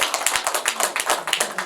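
An audience at a book launch talk claps steadily, a dense run of close, crisp handclaps with no speech.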